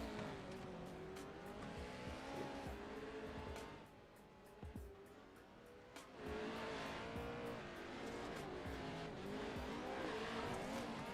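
In-car view of an Enduro Xross race car crossing rough whoops toward the finish line, with a steady engine drone rising and falling in pitch, tire squeal and bumps knocking through it, heard fairly quietly.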